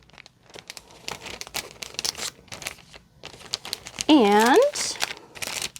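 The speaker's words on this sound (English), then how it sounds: "sorry for all the crinkling. I just have them in bags like to protect them." Plastic protective bags crinkle and rustle in short bursts, close by, between quiet gaps, with a person speaking briefly and a rising, wavering vocal tone near the end.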